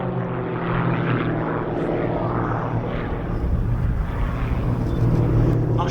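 Four vintage propeller aircraft flying formation aerobatics at an airshow, their engines a loud, continuous broadband drone that swells slightly toward the end, with no voices over it.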